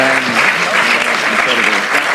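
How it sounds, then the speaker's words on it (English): An audience at a church panel event gives a steady, loud round of applause, dense clapping filling the moment without pause. "let's give Apostle Selman a round of applause real quick."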